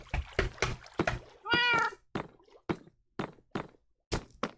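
Cats in the video game Minecraft give a run of short, close meows, with one longer drawn-out mewl near the middle and clear gaps between calls.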